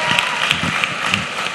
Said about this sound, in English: let's give the Lord another round of applause for all of them